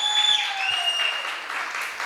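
A church congregation at a Kannada sermon claps together in a dense, sustained patter, fairly close, with a held keyboard-like tone ringing underneath and no speech.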